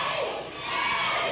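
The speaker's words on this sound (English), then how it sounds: "The crowd obviously has other opinions as to Buddy Shane's weight advantage over ring lord Speedy Gonzalez." A 1987 IWA Carolinas wrestling crowd jeers and shouts at Buddy Shane in a loud, massed roar of voices that dips briefly mid-way, then swells again.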